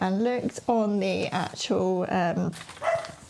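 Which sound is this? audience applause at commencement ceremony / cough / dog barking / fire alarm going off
dog barking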